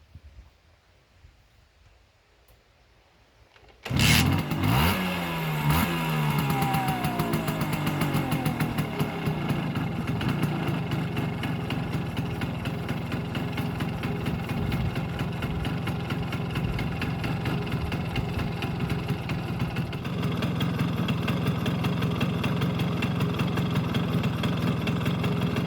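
Original 1982 Simson S51 Elektronik moped engine kicks into life after a few seconds of near silence, then settles into a steady, close, loud idle with a buzzing two-stroke rattle that carries on without pause; no one speaks.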